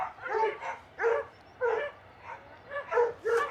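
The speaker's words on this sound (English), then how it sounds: "the dogs at the kennels" Dogs at kennels near Bristol Airport bark in six loud, close bursts spaced about half a second apart, with quiet gaps between them and no talking.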